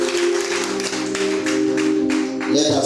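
A church congregation claps and applauds for Jesus during a sermon, steady clapping over sustained organ or keyboard tones.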